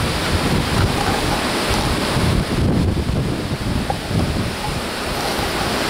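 Strong headwind along a coastline after rain, buffeting the microphone in heavy gusts with a low rumbling roar, surf faintly mixed underneath, continuous and loud with no voices.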